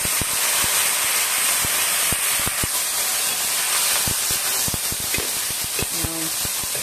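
Garlic sautés and begins to burn in hot oil, giving a steady close hiss scattered with sharp pops and clicks.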